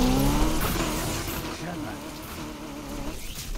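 Race car engine whining and tires squealing while drifting in the video game Need for Speed Unbound, a loud sustained buzzing roar with pitch shifts, heard under someone talking.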